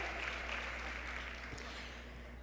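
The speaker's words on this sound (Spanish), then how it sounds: "Así que un fuerte aplauso." A conference audience in Panama applauds at an award presentation, a steady, dense wash of clapping that holds at even strength for the whole stretch.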